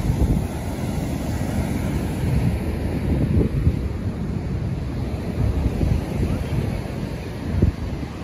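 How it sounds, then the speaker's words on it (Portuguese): Surf rolling in at Sítio do Conde beach in Bahia, a steady broad wash of waves heavily buffeted by wind on the microphone, with a low continuous rumble throughout. "aqui, ó, é a praia Sítio do Conde, não é isso?"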